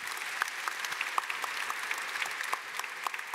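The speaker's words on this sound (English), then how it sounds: "warm round of applause for our panel" Conference audience gives a warm round of applause for a panel, dense even clapping from a sizable crowd, sustained and fairly distant, with no talking over it.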